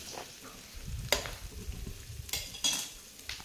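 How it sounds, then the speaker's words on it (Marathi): Ginger and green chili mixture being sautéed in a pan, a faint low sizzle broken by a few scraping stirs of a spatula, quiet and close with no talking. "मग हे सगळं आता मिक्सचर चांगलं परतून घ्यायचं।"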